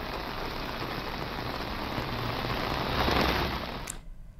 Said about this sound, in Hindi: तेज बारिश जो है वो इन इलाकों में देखी जा रही है